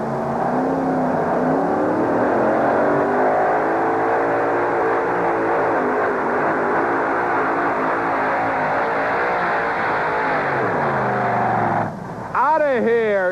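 A pulling truck's engine roars loud and sustained at a 1991 USHRA truck pull in Uniondale, holding a steady high-revving drone before a brief dip near the end, with a voice talking over it.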